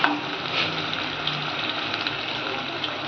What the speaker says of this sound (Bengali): আর একটু হলুদ দিয়ে আলুটা ভাজবো।